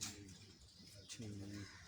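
Soft, low cooing from pigeons on a rooftop in Jhelum repeats under a hazy outdoor background, faint and somewhat distant.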